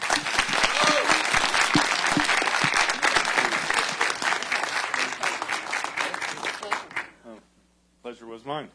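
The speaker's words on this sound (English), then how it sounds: "but a round of applause." Audience at the Freedom to Connect 2009 conference claps for a panel, dense and steady for about seven seconds before thinning out, then a voice begins speaking over the quiet hall.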